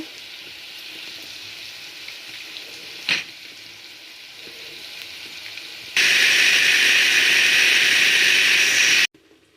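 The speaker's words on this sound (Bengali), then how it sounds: "আমি মসুর ডালটা ধুয়ে এখন নিজে ব্লেন্ড করব" A blender grinds washed red lentils (masoor dal) in a home kitchen: after quiet background, a loud, steady whirring roar starts abruptly, runs for about three seconds, then cuts off sharply.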